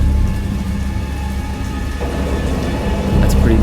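A loud, steady thunderstorm in a Lovecraftian horror video game, with heavy rain hissing continuously and deep thunder rumbling beneath it, swelling again near the end.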